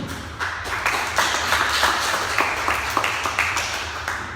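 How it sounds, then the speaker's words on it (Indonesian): Audience applause at a university student council election debate, a few seconds of scattered, moderately loud clapping with uneven rhythm, filling the room without talk over it. "Ya, udah beri tepuk tangannya."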